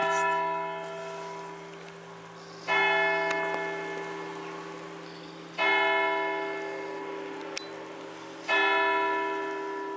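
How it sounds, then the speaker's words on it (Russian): Church bells on a clock tower strike in slow, evenly spaced peals, each ringing out and decaying before the next, over a low steady hum. "Колокола на башенных часах"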